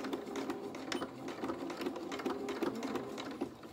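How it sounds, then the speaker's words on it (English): A sewing machine stitches the fabric of a small T-shirt dress, running in a fast, even mechanical chatter close by that holds steady for several seconds without speech. "Just where I'm machine stitching"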